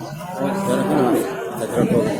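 Cattle at the Jatirogo livestock market in Tuban, with a low bovine moo or groan rising over a busy background of crowd chatter and nearby voices talking.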